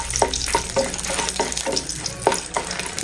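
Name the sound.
dried red chillies roasting in leftover fish-frying oil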